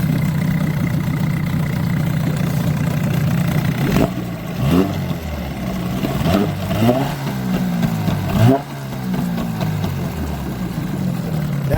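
A 1984 Johnson 6 hp Sea Horse outboard motor idles steadily and close, a low continuous drone with a few brief rising surges.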